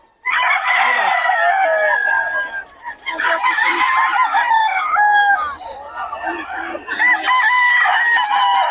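Several gamefowl stags, roosters of the golden boy and lemon lines, crow over and over with overlapping calls and clucks at a busy fowl gathering in Bocaue, loud and close throughout.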